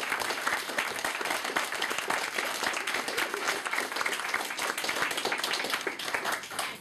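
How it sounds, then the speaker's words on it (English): Guests at a wedding speech give the bridesmaids a round of applause, a dense, steady clapping from a close crowd that carries on evenly throughout with no talk over it. "round of applause for the bridesmaids"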